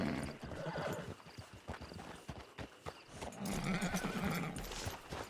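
A horse in the video game Red Dead Online clip-clops and whinnies close by, with hoofbeats coming in uneven bursts and a neigh near the end.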